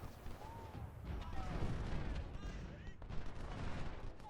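Infantry gunfire from Ultimate General: Civil War rolls on as a dense, continuous rattle of distant musketry and crackling shots, with occasional louder reports. Faint whistling tones drift through.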